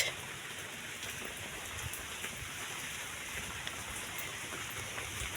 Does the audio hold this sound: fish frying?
no